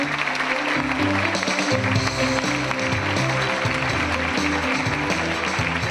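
Audience applause at the Prix Fondation Air France 2012 ceremony: steady, dense clapping from a crowd fills the hall, loud and continuous, with music playing underneath.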